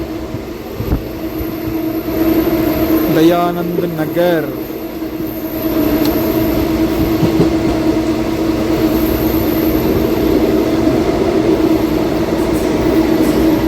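A DEMU passenger train runs on the tracks with a continuous rumbling drone, heard from inside; a brief horn-like tone rises near the start and a voice speaks briefly.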